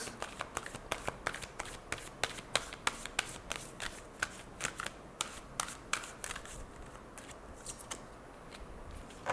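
Tarot cards shuffled and drawn by hand, a quick run of crisp flicks and snaps close up, thinning out toward the end, with no voice over it.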